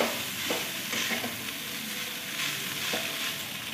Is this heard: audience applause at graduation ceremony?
no